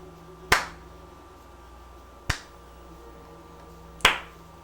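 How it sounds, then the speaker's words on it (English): Three slow, sharp claps spaced about two seconds apart ring out alone in a quiet room, each crisp and close with a short fading tail. "slow clapping"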